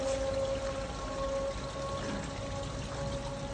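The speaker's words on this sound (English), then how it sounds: "Water from upper sluice drains into lower sluice." Water from an upper sluice gate drains into a lower sluice in a pyramid-construction demonstration, a steady, loud continuous rush with no pauses, with a faint constant whine running underneath.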